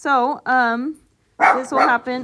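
A dog barks several times in quick succession, loud and close, with a pause between two bursts of barking while a person speaks over part of it.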